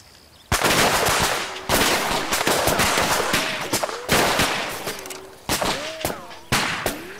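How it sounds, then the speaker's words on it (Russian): Several loud volleys of gunfire crack out in bursts at firing practice, each rapid series of shots ringing and echoing before the next round begins. "Виктор Степанович, а может нам учебные стрельбы устроить?"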